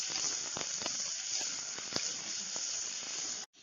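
Sliced onion fries in a pan, giving a steady bright hiss and sizzle with a few faint pops, held at an even level until it cuts out abruptly at the end.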